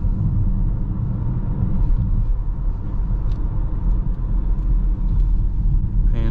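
A 2024 BMW X5 40i accelerates onto a highway, giving a steady, loud low rumble of engine and road noise inside the cabin, with no talking.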